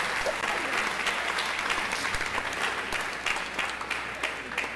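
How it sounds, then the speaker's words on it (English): Loud, sustained audience applause for school band students at a Marietta High School spring band concert, a continuous wash of many clapping hands that eases slightly toward the end. "I'll give you a round of applause."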